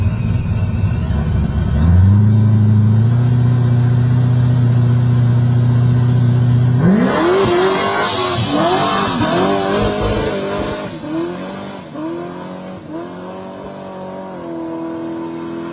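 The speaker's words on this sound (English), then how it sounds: "We talked about doing a dig race, and this is what happened." A boosted Chevy S10 truck and an F-150 launch from a stop in a dig race, one engine idling loud and close before rising revs, then tire squeal and wavering acceleration as the engines climb and shift.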